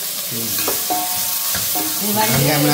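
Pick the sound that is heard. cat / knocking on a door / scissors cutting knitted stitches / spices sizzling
spices sizzling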